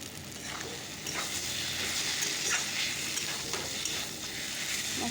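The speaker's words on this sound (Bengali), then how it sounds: "একটু ভাজা ভাজা করে নিয়ে" Vegetable curry with spices frying in a pan, a continuous close sizzle with occasional scraping stirs, moderately loud and without talk.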